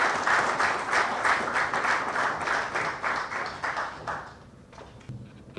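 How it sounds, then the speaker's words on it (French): An audience at a medical school graduation event applauds a speaker being welcomed to the podium, a loud burst of clapping that tapers off toward the end, leaving a few scattered claps. "laissons la parole à Stéphie Osoko sous vos applaudissements, s'il vous plaît."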